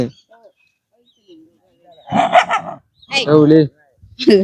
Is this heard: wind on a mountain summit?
no